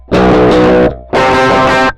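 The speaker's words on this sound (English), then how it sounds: "So that's really the distortion on this thing." Two loud, sustained chords on a heavily distorted Aklot multiscale seven-string electric guitar, each ringing for about a second with a short gap between them.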